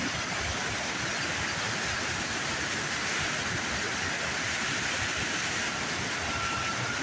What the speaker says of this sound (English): Generally, we don't see water running on this rock here